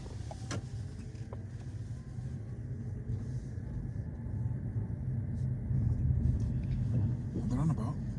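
During a driving test, a car pulls away with a low engine rumble that builds slightly as it moves off, while people talk over it.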